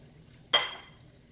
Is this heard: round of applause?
no